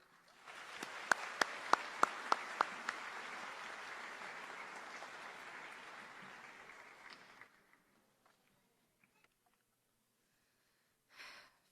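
An audience at a Treca Digital Academy commencement applauds a speaker for about seven seconds with a few sharp nearby claps, then fades into near silence before a brief sound at the end.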